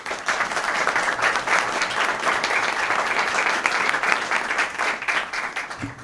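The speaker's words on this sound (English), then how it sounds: "let's give him a nice round of applause" People at a school district meeting give a new staff member a warm round of applause, with steady, moderately loud clapping from a small indoor crowd that tapers off at the end.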